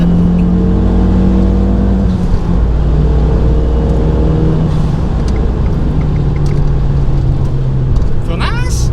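An Abarth 500 accelerates hard, its small engine revving loudly with a rising drone and a gear change partway through, heard from inside the car, with a voice speaking near the end.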